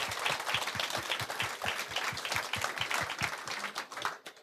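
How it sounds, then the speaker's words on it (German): Applause from a conference audience at the 33C3 Sendezentrum stage, dense steady clapping from many hands close by, sustained for several seconds before tapering off at the end. "vielleicht auch mal einen ganz großen Applaus an alle, die jetzt schon mal soweit hier beigetragen haben"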